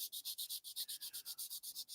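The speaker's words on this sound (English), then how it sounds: "little bit of sanding just to take the rest of that off" Rapid steady back-and-forth scratchy rubbing of sandpaper on a model tire, about eight strokes a second, close and fairly quiet, with no voices.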